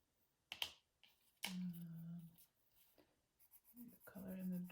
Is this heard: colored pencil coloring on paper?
yes